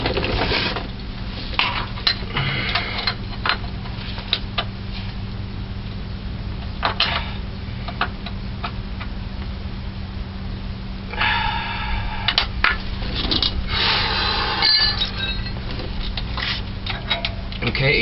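Socket wrench clicks and ratchets on a loose back nut of a 1978 Continental Mark V's Ford 400 engine during a timing chain job, in sharp bursts of metallic ticking over a steady background hum.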